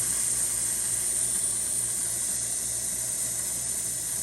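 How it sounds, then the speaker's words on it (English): A loud, steady high-pitched hiss of steam from a Jura Z5 espresso machine's steam wand, without its milk hose, continuous and unbroken throughout. "I don't have the hose, so I'm not sucking milk, but we get nice strong steam."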